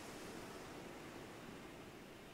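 Faint, steady ocean surf ambience from a horror video game sets a soft, continuous wash of noise with no distinct wave breaks and no voices.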